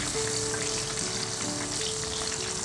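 Food deep-frying in oil over a lowered flame, with a close, steady crackling sizzle of bubbles lasting the whole time and no voices.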